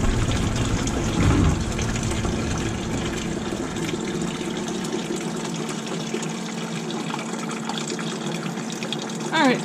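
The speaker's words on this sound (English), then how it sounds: "so we have drained out whatever's gonna drain out" Coolant water draining and splashing from a Ford F-350 with a 7.3 IDI diesel engine during a hose change, a steady gushing flow that thins out partway through.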